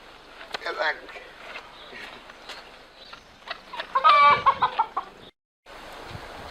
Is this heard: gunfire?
no